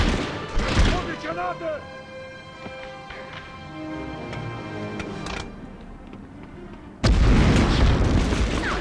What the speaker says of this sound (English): Did he kick the grenade back at me? That thing took a while to blow up.